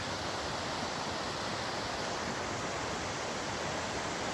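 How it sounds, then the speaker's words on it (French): Mountain waterfall in a forest in the Gran Paradiso massif, a steady faint rushing of water heard from a distance, with no other sounds. "Magnifique cascade là-bas."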